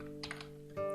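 A few quick keystrokes on a computer keyboard, light clicks close by over a steady low hum, ending in a slightly louder key press.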